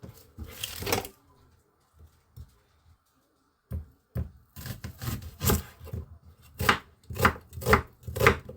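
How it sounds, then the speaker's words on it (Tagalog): A knife chops onion on a board in bursts of quick, close, crisp cuts, with brief pauses between and a faster rhythmic run toward the end. "siwain ko muna yung aking sibuyas na gagamitin"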